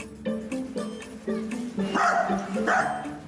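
A dachshund barking in a busy public place, a run of sharp yips and barks in quick succession, close and fairly loud, with a little talk mixed in.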